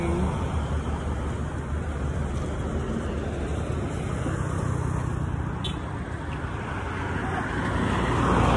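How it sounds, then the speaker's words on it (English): A city bus approaches along a street in a Rwandan neighbourhood, its steady low engine rumble and road noise swelling slightly toward the end, with wind buffeting the microphone throughout. "Oh, that's a city bus coming."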